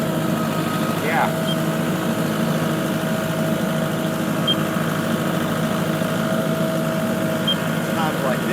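A tractor engine idles steadily and loudly on a farm as it slowly backs up, a constant low drone throughout with faint brief squeaks.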